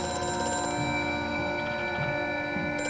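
A telephone rings in the video game Amnesia: A Machine For Pigs, a sustained tonal ringing with a buzzy edge over a low ambient hum.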